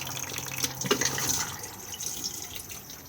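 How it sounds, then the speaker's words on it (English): A cassette toilet flushing inside a Swift Challenger 530 caravan: a close rush of water over a few seconds with small gurgles and trickles, with no talking. "Blue button on the top to flush."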